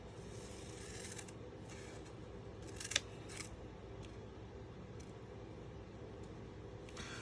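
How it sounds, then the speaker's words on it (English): Quiet snipping of fringe scissors cutting paper all at once, a few soft cuts spaced apart over low background hum. "the fringe scissors cut all at once"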